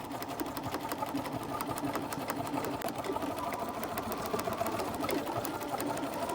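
Sewing machine running a steady line of stitching close to a pressed fabric edge, making a casing on a fantasy tabard costume; a continuous, even mechanical whir with rapid needle ticks, close and alone.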